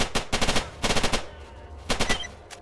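Automatic gunfire in the video game STALKER, set in the Garbage area: several rapid bursts of sharp shots, close and loud, separated by short pauses, with a quieter echo between volleys.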